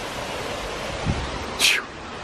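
Waterfalls in Shawnee National Forest give a continuous broadband rush of falling water, steady and fairly close, with a brief bright hiss and a low thump breaking through near the end.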